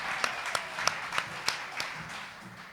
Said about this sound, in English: How about a round of applause, huh?